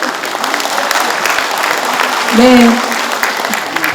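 Applause at a provincial governor's inauguration ceremony, a steady crowd clapping throughout with a man's short spoken word rising briefly in the middle.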